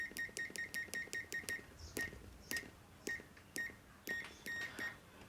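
A Vartech V2101+ clamp meter in continuity mode gives quick, sharp electronic beeps, first in a rapid run of about eight, then in irregular single chirps as the probes touch, close and alone.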